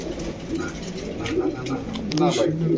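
Pigeons coo softly at a pigeon market, low repeated calls running under steady nearby chatter and market noise.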